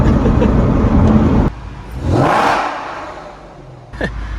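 A turbocharged car running race gas with the boost turned up accelerates hard, engine roaring close and loud, then a gear change and a rising whooshing pull that fades, followed by a short sharp burst.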